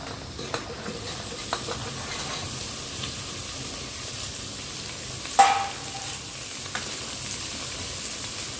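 Mutton, raw cowpeas and potatoes fry with onions in a pan, giving a steady, fairly quiet sizzle and hiss with a few soft stirring knocks and one sharper clink.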